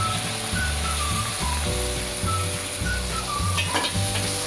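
Ground tomato and masala sizzle in a pan for a black-eyed peas curry, with a steady frying hiss and the rhythmic scrape of a spoon stirring throughout, close and continuous.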